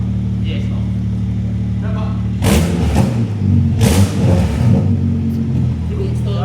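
A Toyota Supra engine, apparently with the downpipe removed, revs loudly in two bursts over a steady running rumble, close by, while people talk nearby.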